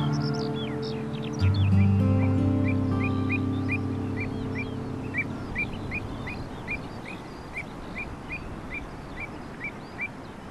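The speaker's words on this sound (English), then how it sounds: "This delicate bird with the unusual upturned bill is an avocet." Avocets calling, the delicate wading birds with upturned bills: a steady series of short, sharp piping notes repeats at an even pace over a busy wetland background, with lower honking calls early on.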